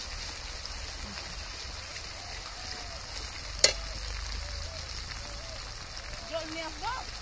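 Onions and ground ginger frying in oil for cauliflower chicken cooked at a picnic: a soft, continuous sizzle with a sharp clink midway, while voices talk faintly over it.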